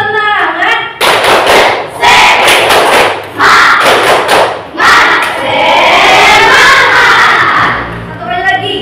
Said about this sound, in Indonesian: Dengan tepuk semangat ya. 1, 2, 3. Tepuk semangat.